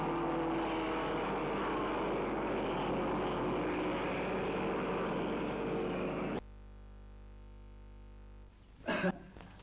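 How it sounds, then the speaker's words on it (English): 1200cc sports cars roar away at the start of a seven-lap race at Donington Park: loud, dense engine noise for about six seconds, then an abrupt cut to a quieter hum, with a short burst of sound near the end. "shooting now the start of the event number 3, the 7-lap race for 1200cc sports cars"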